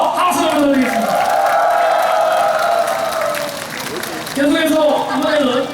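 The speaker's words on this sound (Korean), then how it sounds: "맞다고 생각하시면 박수와 함성을 부탁드리겠습니다" A live performance audience claps and cheers loudly, with shouted whoops over dense applause. The noise dips briefly partway through before swelling again.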